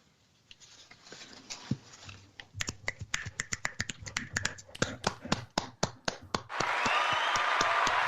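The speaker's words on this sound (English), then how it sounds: "Some applause." A small group snaps fingers and claps in scattered, uneven bursts, then breaks into a fuller, steady round of applause over the last second or so.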